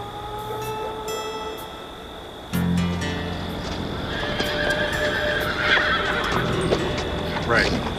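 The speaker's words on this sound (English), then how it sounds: "those are wild horses" Wild horses neigh in loud, wavering whinnies while hooves clip-clop, with a thump partway through and a low rumbling background.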